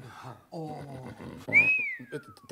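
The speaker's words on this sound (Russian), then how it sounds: "Что за свист?" A man whistles in surprise, a single bright rising-then-falling wolf whistle cutting in after a stretch of conversational speech, with talk resuming right after.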